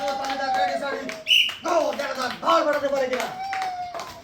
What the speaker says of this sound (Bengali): সবাই তার জন্য করতালি